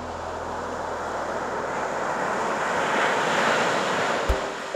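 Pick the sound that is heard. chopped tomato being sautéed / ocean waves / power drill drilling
ocean waves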